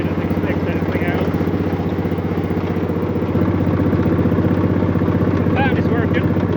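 An old, rusty crude oil tractor engine runs steadily at close range, a loud, even rhythmic chugging and clatter that holds throughout, with faint talk beneath it.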